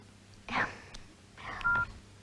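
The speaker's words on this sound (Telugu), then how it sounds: "వేరే కాల్ వస్తుంది." A telephone beeps during a call as a second call comes in, with two short tones close together and otherwise quiet.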